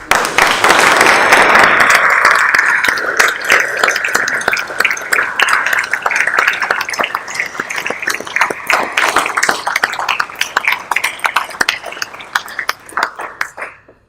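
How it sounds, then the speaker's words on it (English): Conference audience at a Yorkshire and North Lincolnshire regional conference applauding speakers: loud, dense clapping from a sizeable crowd that starts full and gradually thins into scattered claps before fading out. "I think they all deserve, from the Yorkshire North Lincolnshire region, a big, huge round of applause."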